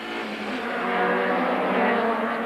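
Touring race cars at Kyalami circuit in 1998 roar as a pack up a hill toward a kink, a loud, steady engine drone that swells slightly over the whole stretch with no voices.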